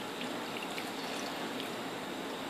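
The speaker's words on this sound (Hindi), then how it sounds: "ये तकरीबन 1/2 लीटर पानी है, ये भी इसमें जाएगा" About half a litre of water pours steadily into a cooking pot for yakhni, a continuous, fairly loud rushing stream with no pauses.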